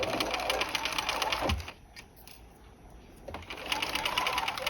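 A sewing machine stitches a collar seam in two fast whirring runs, close and clear, separated by a quiet pause of about a second and a half.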